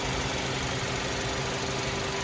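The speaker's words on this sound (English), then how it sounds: "4-cylinder engine runs nice and smooth." The 4-cylinder engine of a 2015 Hyundai Sonata Limited idles steadily under the open hood, a smooth continuous hum with a faint tonal whine and no talking.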